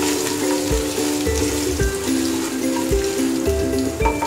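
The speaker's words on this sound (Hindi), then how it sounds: "क्रैकल होने देंगे इन सब चीज़ों को" Grated ginger and vegetables crackle in hot oil in a pan for upma, a busy sizzle with rapid pops and spits, close and continuous, with a few sharper bursts of spattering.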